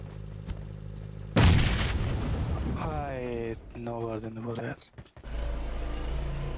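Explosion from a bomb thrown in a shooting video game, a sudden loud boom that crashes in and rumbles on for a few seconds, followed by a second burst, with voices talking over the game.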